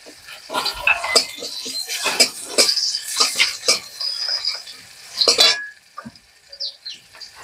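Onion goes into a pan of fried bitter gourd, with bursts of spatula scraping and clattering against the pan over a light sizzle, then a quieter stretch at the end.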